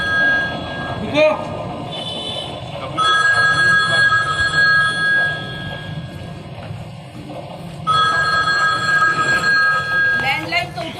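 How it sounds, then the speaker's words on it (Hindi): A landline telephone rings nearby in two long trilling bursts of its bell, while people talk around it indoors. "लैंडलाइन तो उठा लो।"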